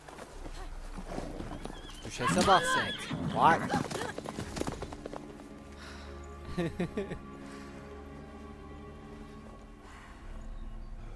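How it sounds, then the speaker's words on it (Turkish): A duchess's horse in the video game The Witcher 3, heard as soft hoof clip-clops and a brief whinny under game music and a character's voice, alongside someone speaking over it. "Bu da majesteler düşesin atı mı? Bayağı güzelmiş."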